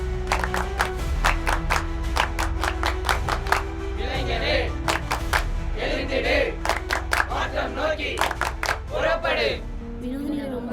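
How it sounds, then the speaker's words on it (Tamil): A youth group at a Tamil Catholic youth movement gathering claps in sharp, rhythmic, fairly regular beats, with shouts and voices from the crowd mixed in throughout. "இளைஞர் கைத்தட்டு"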